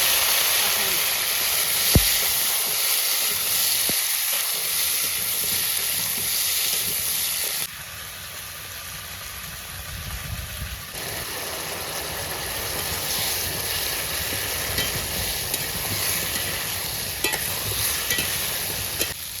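A steady sizzling hiss of plantain frying with spices fills the scene with occasional scraping stirs, over a constant rumbling background that briefly drops in level.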